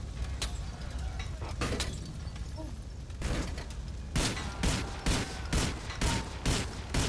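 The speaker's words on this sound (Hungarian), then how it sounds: "Ne lövöldözzé már." Gunfire in the GTA IV: Episodes from Liberty City video game, a dense fusillade of loud shots and bursts rising toward the end, with talk faintly underneath.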